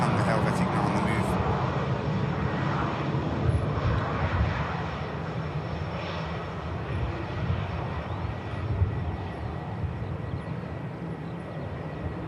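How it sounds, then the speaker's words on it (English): Propeller and jet engines of a Dash 8 turboprop and a Helvetic jet taxiing at Manchester Airport, a steady loud engine roar sustained throughout with no break. "the Dash 8 now and the Helvetic now on the move"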